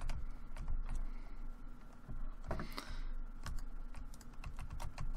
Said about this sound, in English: you're also going to hear my mouse and my keyboard because I don't have a mouse pad